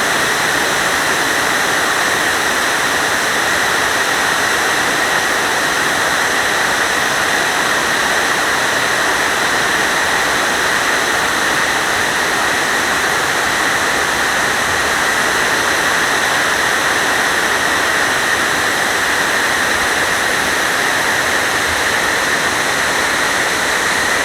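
At the 9/11 Memorial, the South Tower reflecting pool's waterfall pours in a dense, unbroken roar of falling water, loud and steady throughout with no voices over it.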